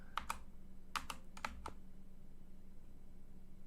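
A handful of quick clicks on a computer keyboard, three short clusters of keystrokes close by, then quiet room tone.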